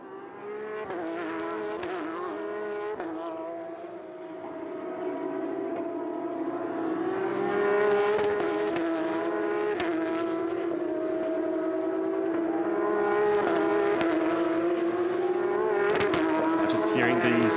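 Porsche race cars with 4-liter Boxer engines rev hard at the Dubai Autodrome, a rising, sustained engine howl with gear-change dips and passes swelling louder, while a commentator talks over it.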